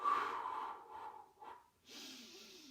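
Long audible exhalations during a Pilates exercise on a mat, a breathy blowing out through the mouth in a few pulses, then a softer airy breath, close and alone.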